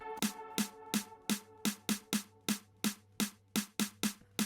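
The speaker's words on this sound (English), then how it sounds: "added my own custom drum loop that I made using a regular snare" A custom drum loop built from a regular snare hits in a steady repeating pattern, about a dozen sharp, punchy strikes with quick decays, loud and alone.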